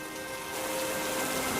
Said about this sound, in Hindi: कमला बारिश में पूरी तरह से भीग चुकी थी